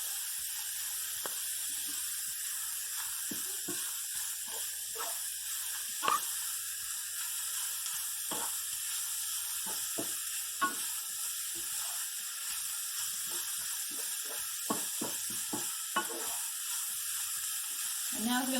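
Grated raw beets and carrot sizzle steadily in a pot for Ukrainian beet borscht, a constant hiss of frying with occasional light knocks and clicks from stirring.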